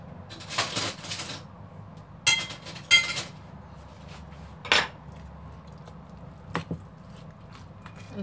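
Spiced kofta meat is mixed in a bowl, with scattered clinks and knocks against the bowl in uneven bursts over a low background hum.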